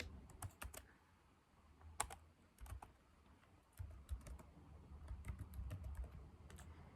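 Keys clatter on a computer keyboard as text is typed into a poster design, irregular bursts of clicks close to the mic with steady background noise and no talk.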